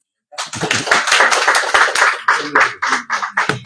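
A small audience at a book launch in Bogotá, Colombia, claps loudly and nearby, a dense burst of hand claps that thins to scattered individual claps over a few seconds.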